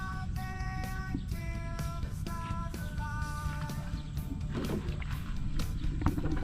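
The engine of a fiberglass fishing boat idles and runs steadily, giving a constant low, throbbing drone with tonal harmonics that continues through the whole stretch, with some clatter and splashing on top.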